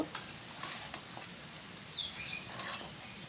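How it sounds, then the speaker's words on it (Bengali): Jackfruit curry being stirred in a pan over medium-low heat in a village kitchen, with soft scraping and faint sizzling at a low level and a few light clicks of the utensil, no talking. "আবারও নাড়াচাড়া করে নিব"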